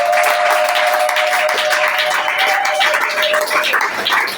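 A church congregation applauds and cheers during a French-language service, a dense, steady wash of clapping that stays loud throughout, with a faint sustained tone running beneath it.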